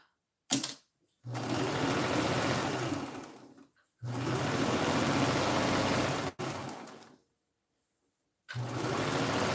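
An electric sewing machine stitches fabric in three sustained runs separated by brief silences, its motor humming and needle clattering steadily, close and moderately loud with no talk.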